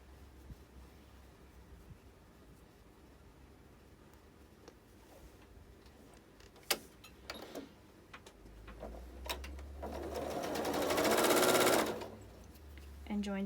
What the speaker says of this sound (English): then we head back to the sewing machine